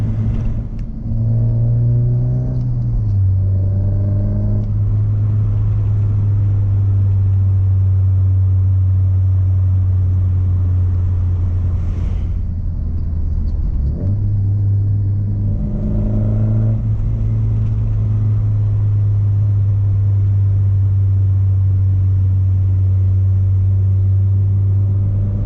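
A turbocharged Ford Focus ST drives along with a steady low engine drone heard from inside, several rising revs as it accelerates and shifts, and one brief dip where the note drops away before returning.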